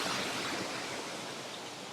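Ouzoud waterfall in Morocco roars as a steady broadband rush of falling water, close and loud, with no voices over it.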